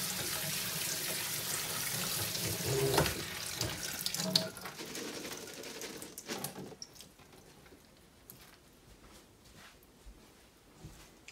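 Fresh cranberries get a rinse in a strainer under a running kitchen tap, water splashing steadily up close, then the flow is cut and only drips, clinks and light handling remain.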